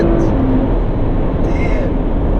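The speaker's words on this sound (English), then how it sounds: "Oh my god, this engine is brilliant." A 2019 Porsche Cayenne S with a PDK dual-clutch gearbox accelerates hard, its engine a loud, sustained low roar with dense road rumble heard from close by, likely inside the cabin.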